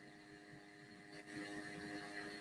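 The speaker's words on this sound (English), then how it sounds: "my computer sounds a little bit like a jet engine today" Computer cooling fan running hard, a steady airy whir with faint tonal hum that swells slightly partway through, close and fairly quiet with no talk.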